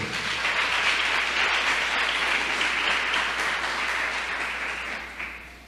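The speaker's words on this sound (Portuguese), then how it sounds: "Vamos aplaudir ao Senhor?" A church congregation applauds in praise, broad sustained clapping filling the room at even loudness before tapering slightly near the end.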